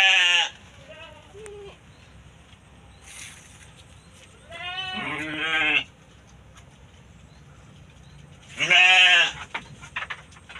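Young ewes of a local sheep breed bleat close by, three separate wavering calls spaced a few seconds apart, with quieter animal sounds in between.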